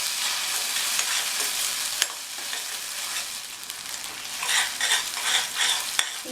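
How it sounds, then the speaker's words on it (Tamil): Ground masala paste, loosened with a little water, frying in oil in a pan for a raw banana side dish, with a steady close sizzle, scraping stirs and a few sharp utensil knocks, alone without talk. "இந்த மாதிரி மிக்ஸ் பண்ணி விட்டுக்கணும்."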